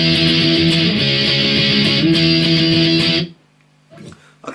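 Distorted electric guitar plays a fast pop-punk part with sliding power chords, loud and continuous before cutting off abruptly into near silence with a few faint string noises.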